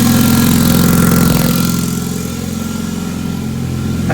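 Honda race car engine running loud and close after being started, a rough mid-pitched idle with a brief blip before settling into a steady throbbing run, no talking.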